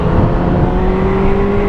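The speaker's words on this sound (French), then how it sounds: "Même l'accélération est pas dégueulasse en soi." A 2018 Kawasaki Z900 A2 motorcycle accelerates in a loud, close engine roar with a steady rising tone, brief and continuous.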